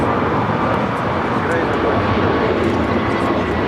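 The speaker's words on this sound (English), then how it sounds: "It's a 747-400 freighter pushing back on taxiway Alpha." A Boeing 747-400 freighter pushes back on taxiway Alpha at Los Angeles International Airport, giving a loud, constant engine rumble and hiss that runs without a break, mixed with talking.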